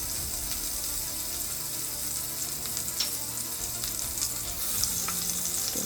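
Butter sizzles as it melts into heated olive oil in a pan, a steady close crackle and hiss that runs throughout with small pops and no talking.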